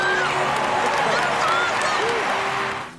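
Spectators in the stands of a film scene burst into sustained applause and cheering, a dense crowd roar with clapping and shouts that holds steady and then fades slightly at the end.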